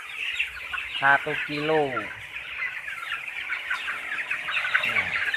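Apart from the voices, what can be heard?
broiler chickens clucking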